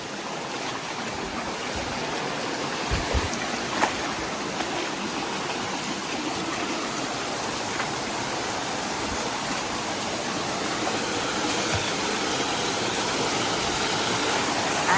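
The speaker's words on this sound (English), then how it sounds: "And look, the waterfall is there." A waterfall on a hiking trail in the Northern Range, heard as a steady, broad rushing roar of falling water lasting throughout, with a few faint knocks and no voices.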